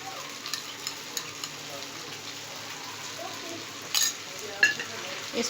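Cream is stirred into vegetable macaroni frying in a pan, with a soft, steady sizzle, light scattered clicks and a couple of louder scraping knocks near the end.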